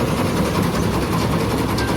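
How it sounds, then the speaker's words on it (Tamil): A rice threshing machine running in a paddy field, producing a loud, continuous rattling engine drone close by with no pauses. "இப்போ நெல் அடிக்கிற மிஷின் வந்துருச்சு. நெல் அடிச்சிட்டு இருக்கு."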